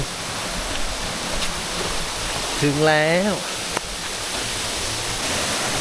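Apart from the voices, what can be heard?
Jet Khot waterfall, Saraburi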